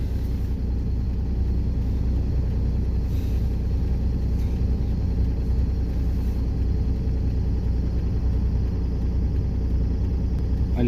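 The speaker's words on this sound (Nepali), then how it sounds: "अहिले गइरहेको पब्लिक गाडीहरू हो" Public buses and cars pass along a street in Japan, a steady low traffic rumble and engine drone that stays even and moderately close throughout, with no clear voices.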